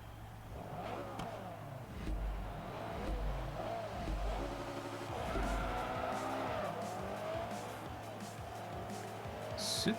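Race cars in Forza Motorsport 3 roar and rev while tires squeal through corners, a continuous engine drone with shifting pitch and screeching skids under faint background talk.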